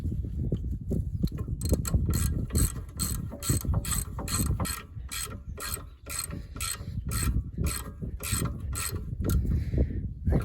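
Ratchet wrench clicking in quick regular bursts while tightening rear brake caliper bolts on a Volvo V70 D5 during a disc and pad job, close and loud over a low workshop rumble.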